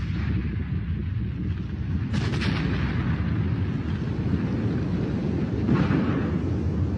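A volcanic eruption explosion rumbles as a dense, continuous low roar filling the whole stretch, with a brief crackling burst near the start and another swell toward the end, heavy and distant-sounding, with no voices.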